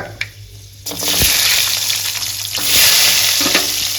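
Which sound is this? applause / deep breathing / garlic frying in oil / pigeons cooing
garlic frying in oil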